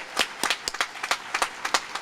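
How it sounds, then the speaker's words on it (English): Audience applause for a keynote speech at a university opening convocation, a burst of hand claps with distinct individual slaps rising and falling in a loose, irregular rhythm across the hall. "Let's give another round of applause to Dean Zia for a great"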